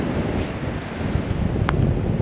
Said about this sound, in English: it's a bit windy at the moment